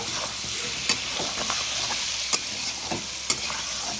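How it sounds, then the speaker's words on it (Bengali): Six or seven slit green chillies sizzle steadily in hot oil in a pan, with a few sharp spatula scrapes and clicks over the constant frying hiss. No one speaks. "এবার দিয়ে দেবো 6-7টা মতন কাঁচা লঙ্কা ফাটিয়ে দিয়ে আবার একটু নাড়াচাড়া করে নেব"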